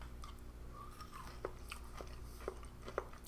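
Several crisp crunching bites and chews of under-rehydrated mince from a camping ration pack, close up, with short sharp clicks about once a second against a quiet background.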